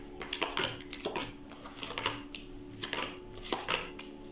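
Playing cards being shuffled by hand in a personal mixing style, giving a run of quick riffling snaps and soft clicks that keep up an irregular rhythm, close and clear with no talking.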